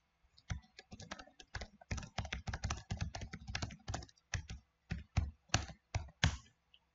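Bursts of rapid clicky typing on a computer keyboard, close and fairly quiet, with irregular clusters of keystrokes and short pauses between words, no voices.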